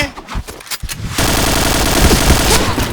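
Rapid automatic gunfire in the Point Blank shooter game: after a second of scattered shots and noise, a dense, loud burst continues without a break to the end.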